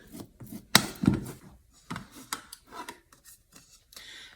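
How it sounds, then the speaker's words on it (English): Sweet potato being scraped and pressed through a sieve while making scones: a run of short scratchy rasps and soft scrapes, close by and moderately loud, with one sharper stroke near the start and no talking. "I just scrape the sides and press that last bit of sweet potato through the sieve"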